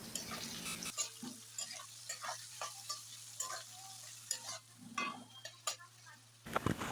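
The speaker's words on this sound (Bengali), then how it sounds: "বড় বড় দুটো গোটা পেঁয়াজ কেটে নিয়েছি কুচি করে, সেটাকে ভালো করে ভেজে নেব" Two whole large onions, finely chopped, fry in a pan, with a steady low sizzle under repeated scraping and stirring strokes and light clinks of a utensil throughout.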